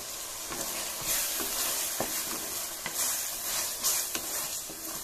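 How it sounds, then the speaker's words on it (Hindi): Peas and green chili fry in a pan with cooked tomato, ginger and garlic, giving a soft continuous sizzle broken by scraping stir strokes; fairly quiet, no voices. "थोड़ा सा ये गोभी अच्छे तरह इसमें भून दूंगी मटर को भी दोस्तों"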